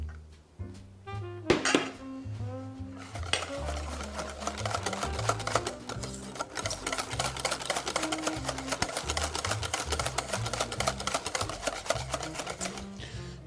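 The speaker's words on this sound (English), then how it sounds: "Just keep whisking until all the butter's gone." A whisk beats butter into a hollandaise emulsion in a bowl, giving a fast, steady clatter of metal against the bowl that runs continuously and fairly loud, with a brief pause near the start and background music underneath.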